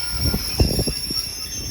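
A passing train of passenger and baggage wagons rumbles close by, with a few rhythmic wheel thumps over rail joints and a steady high whine running above.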